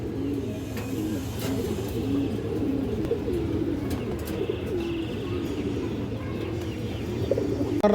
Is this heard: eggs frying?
no